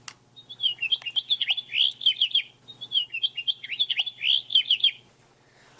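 Indigo bunting song from treetops: two close, clear runs of bright, quick paired chirps and warbled notes with a short pause between, over faint background hum.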